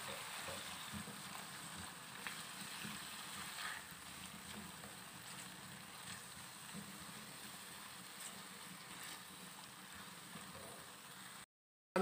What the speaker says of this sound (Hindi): आलू को थोड़ा सा इसमें फ्राई करेंगे।